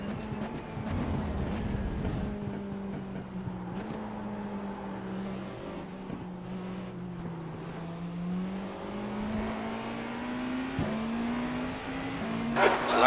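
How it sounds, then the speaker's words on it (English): A Mercedes V8 race car in an iRacing IMSA race at Mexico City, its engine droning loud and near with rising pitch through the gears, brief shift dips, and a louder burst of revving near the end. "Oh, those Mercs sound good, don't they? Love those V8s."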